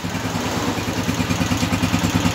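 Honda TMX155 motorcycle engine running after an overhaul with a new connecting rod and timing gear, a steady close idle with an even, rapid low thumping rhythm throughout.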